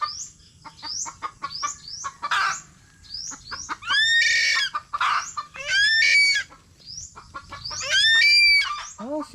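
Chickens cluck and squawk nearby in a yard, a rooster-like call rising among them, with a few high thin chick peeps mixed into the busy, overlapping calls.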